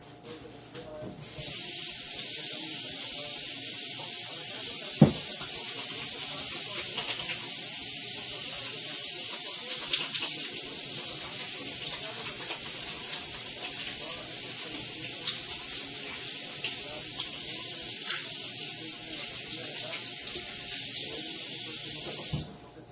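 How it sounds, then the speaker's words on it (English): Steady hiss of tap water pouring into a sink during handwashing in a home kitchen, continuous and fairly loud from start to finish, with a single faint knock partway through and no talking. "I'm going to wash my hands again."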